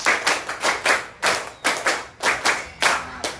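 A classroom group claps a rhythm pattern together in tight bursts of quick claps with short pauses between the groups, loud and close, with no talking.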